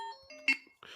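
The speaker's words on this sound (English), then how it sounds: "my phone started making noises because it's 11 o'clock" A phone alarm goes off at 11 o'clock, giving a short run of bright electronic melodic tones at close range, followed by a brief noisy burst.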